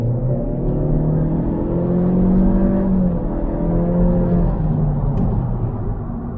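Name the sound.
2022 Honda Civic Touring accelerating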